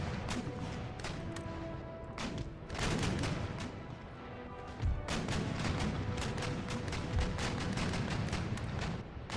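Naval cannon fire from sailing warships in a battle in Empire: Total War, a rolling series of booming shots and crackling broadsides, some close and heavy, others distant, layered over a continuous battle din.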